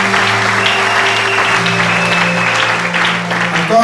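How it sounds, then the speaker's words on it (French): A church congregation claps for a few seconds during a pastors' consecration service, steady applause over sustained keyboard chords, fairly loud and close. "Est-ce qu'on peut applaudir le Seigneur?"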